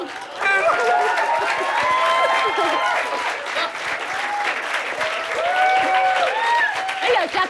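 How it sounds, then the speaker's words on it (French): A studio audience claps and cheers for several seconds, a loud, continuous crowd applause with whoops and voices riding over it. "Oui, ça, ils applaudissent, ils sont contents."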